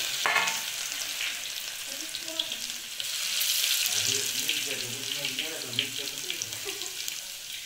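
Loud, continuous sizzling of garlic and curry leaves frying in hot oil for a dal tempering, crackling close up with occasional stirring clinks.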